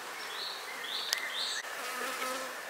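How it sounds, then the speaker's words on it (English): Steady buzzing of many honeybees around a hive, a dense insect hum with individual wingbeats passing close by against a busy background. "these bees are bringing in pollen and a little bit of nectar"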